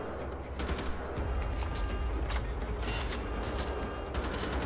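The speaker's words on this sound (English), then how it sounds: "at least we've got an automatic rifle now" Automatic rifle gunfire in Wolfenstein: The Old Blood, dense rapid bursts of shots over a rumbling low background, loud and sustained across the whole stretch.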